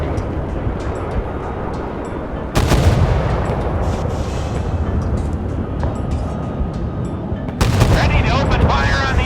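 Warship guns firing on an enemy ship in a naval battle game, Force of Warships: a dense, loud rumbling barrage of cannon fire with two sharp heavier blasts partway through, rolling booms layered continuously with no pauses.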